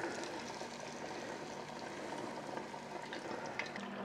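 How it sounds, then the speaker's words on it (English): A steady, quiet crackling sizzle of alligator meat frying in hot oil, continuous and close, with no talking. "Oh, listen to that sizzle."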